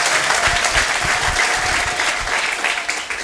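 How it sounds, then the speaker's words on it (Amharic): Church congregation clapping for Jesus at a worship service, dense steady applause from many hands filling the room throughout, no voices standing out. "አጨብጭቡ ለኢየሱስ።"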